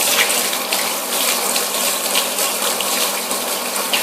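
Water sprays steadily to rinse the chain of a Honda CBR650F motorcycle, a continuous loud hissing gush with no pauses and no speech.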